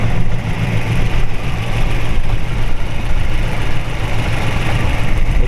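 A 1934 Ford Sedan Delivery resto-rod with a ZZ430 V8 idles cold, a loud, steady low rumble with constant exhaust throb, close up and alone with no talk.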